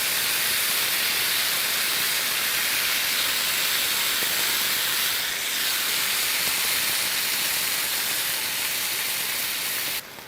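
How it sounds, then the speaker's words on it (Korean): Water poured into a hot pan of tomato sauce sets off a loud, steady, hissing sizzle that holds close and constant for about ten seconds before suddenly dropping away. "여기에 물을 조금 넣어줄게요."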